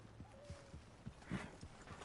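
Horse hooves clip-clop at a steady walking pace in the Red Dead Redemption 2 video game, a series of distinct close thuds with a brief faint whinny-like tone early on.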